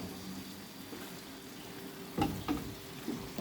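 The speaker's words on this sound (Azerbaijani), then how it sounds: "İndi qarışdırıram." Cabbage frying in a pan gives off a low, steady sizzle, and three louder scraping stirs cut through it near the end. No one speaks.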